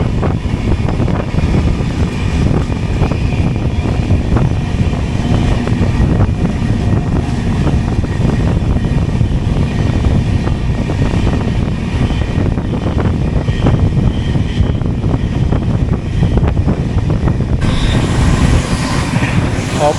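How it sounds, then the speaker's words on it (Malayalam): A WAP-7 electric locomotive hauls the Durg–Nizamuddin Sampark Kranti Express past on the opposite line, a loud continuous roar of wheels and rushing wind that holds for the whole stretch. "WAP 737-5/1 ദുർഗ് നിസാമുദ്ദീൻ സമ്പർക്ക് ക്രാന്തി എക്സ്പ്രസ് ആണ്."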